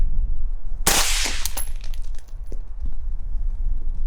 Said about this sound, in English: Let's pop a shot.